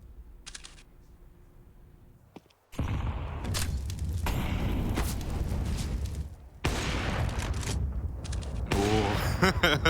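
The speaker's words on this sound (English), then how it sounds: "You hear that AWP firing off" Shots and dense gunfire from Counter-Strike on the Nuke map at a pro match, AWP sniper among them, loud bursts separated by quieter stretches, with keyboard clatter mixed in.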